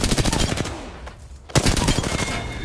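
Rapid automatic gunfire in Apex Legends, loud and close, with a brief lull before a second sustained burst of shots.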